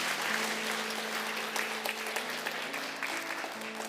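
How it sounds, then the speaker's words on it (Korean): Church congregation applauding during a Sunday worship service as a discipleship certificate is presented, a steady, dense wash of many hands clapping throughout, fairly loud and continuous with a faint sustained musical tone underneath. "큰 박수로 한번 축복하겠습니다."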